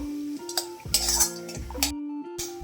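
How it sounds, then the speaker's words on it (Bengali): Spiced potato filling for Bengali aloo chop being mixed with fried peanuts and coconut, a spoon clinking and scraping against a metal pan in a few bursts, close and fairly loud, with no one talking. "আমি আবারও সমস্ত উপকরণ মিক্স করে নেবো"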